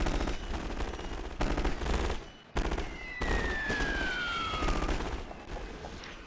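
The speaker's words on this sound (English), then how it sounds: "They're already firing." Massed rifle volleys in Napoleon: Total War with a Great War mod crack out loudly and continuously, a dense fusillade of overlapping shots with a brief lull midway and a whistling tone rising above.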